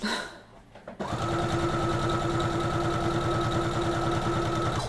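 A sewing machine running steadily at speed, its needle hammering in a fast even rhythm after a brief pause at the start, stitching fabric close up and loud throughout.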